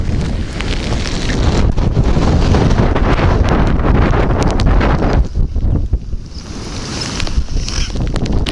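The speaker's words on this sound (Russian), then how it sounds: "Ветер сильный, мощнейший, сдувает просто пипец как" Hurricane-strength wind on a hunt roars and buffets the microphone continuously, loud and rough, easing briefly before gusting back up.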